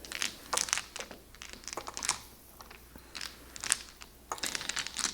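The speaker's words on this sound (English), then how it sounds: "place the tiles face down and give them a good shuffle" Mahjong tiles clattering and clicking as they are shuffled face down on a table, a busy run of quiet, irregular knocks and rattles close by.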